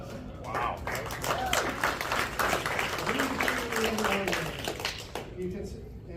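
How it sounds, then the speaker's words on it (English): An audience at a Rotary Club meeting claps continuously under a speaking voice, the applause dense and steady before thinning out toward the end. "A round of applause for Michael, who just loaned me his ring."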